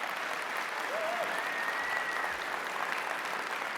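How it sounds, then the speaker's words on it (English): An audience at a fast pitch session gives sustained applause, a dense steady wash of clapping from a crowd, with a faint whistle rising briefly. "let's just give them all another round of applause"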